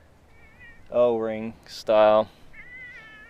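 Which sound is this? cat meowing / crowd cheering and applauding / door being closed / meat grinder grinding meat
cat meowing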